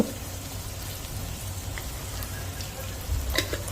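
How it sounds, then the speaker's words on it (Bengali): Spice paste with turmeric powder sautés in oil for a rohu fish curry, an even, rain-like sizzle throughout, with a brief louder burst of stirring near the end. "আর হলুদ গুঁড়োটা দিয়ে দেওয়ার পর একটু ভালো করে কষিয়ে নেব।"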